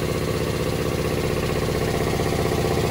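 A 60 gallon air compressor runs on a newly replaced motor, giving a steady, loud mechanical drone with constant hum and no breaks, close by and without talk.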